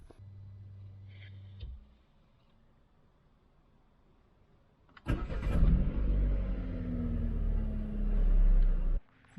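An MG3 1.5 VTI car engine cranks and catches after a quiet pause, then settles into a steady idle before cutting off abruptly.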